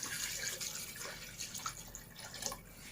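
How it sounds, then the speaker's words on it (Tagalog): Water pours steadily into a pot with a continuous splashing rush, close by and moderately loud, with no voices. "Dito na ako maglalagay ng tubig."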